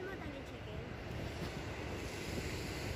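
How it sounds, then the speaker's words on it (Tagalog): Strong ocean waves wash onto a beach at Namal Tel Aviv in Israel, heard as a continuous rough rumble mixed with heavy wind buffeting the microphone. "malakas ang alon"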